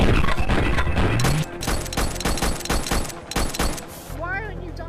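Rapid pistol fire crackles in a VR flying game, dense repeated shots layered over game sounds, with talking over part of it.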